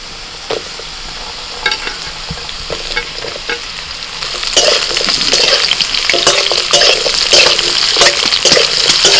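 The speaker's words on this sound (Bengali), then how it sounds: "আলুটা একটু ভেজে নিয়ে কুমড়োগুলো দিয়ে দিচ্ছি" Potatoes and pumpkin fry in a pan, a close, loud sizzle that grows stronger partway through, with repeated scraping clatters from stirring.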